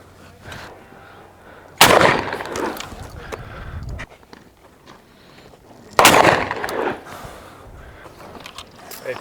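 Two loud, sharp gunshots from a Baikal MP-27 shotgun ring out about four seconds apart, each followed by a short, rumbling echo that fades.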